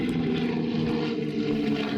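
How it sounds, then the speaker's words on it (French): A twin-engined de Havilland Mosquito, a wooden aircraft powered by two Spitfire engines, drones steadily in flight with a continuous engine roar that holds at an even level for the whole stretch. "équipé de ses 2 moteurs de Spitfire, il volait à plus de 600 km/h"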